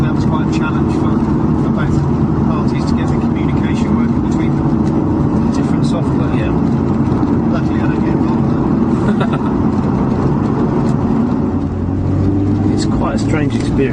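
A Lotus Evora driven on the road, with a steady engine and road drone heard from inside the car throughout, continuous and fairly loud with no break.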